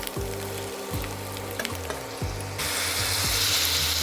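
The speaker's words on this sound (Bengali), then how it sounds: "তাই একটু ভালো করে কষাবো, একদম লো স্টিমে দিয়েছি।" Ginger masala frying in a pan on low heat, a dense steady sizzle with repeated spatula scrapes and stirring clatters roughly every half second to second, the hiss growing louder toward the end; no talking.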